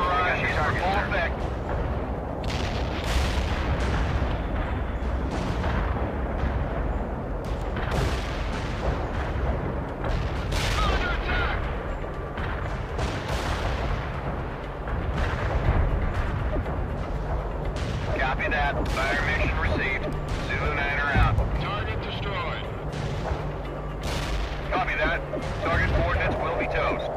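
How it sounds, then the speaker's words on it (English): An artillery barrage pounds away in World in Conflict, with repeated heavy explosions and cracking impacts over a continuous rumbling roar, steady and loud throughout, while radio-style voices speak over the battle. "Artillery barrage is for full effect."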